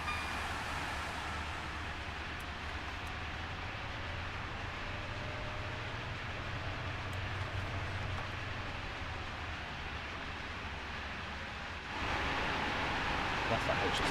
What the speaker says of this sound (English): That's that HST with dust.